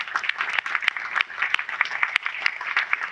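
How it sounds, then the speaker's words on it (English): An audience at a panel event applauds the event team, a brief burst of dense, steady clapping from many hands. "give our entire team an applause back there"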